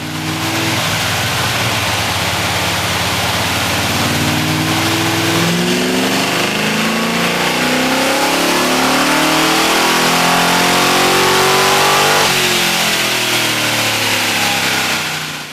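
A modified car engine revs on a dyno, loud and close, with sustained high-rpm runs that climb in steps, ease off and rise again, and no talking over it.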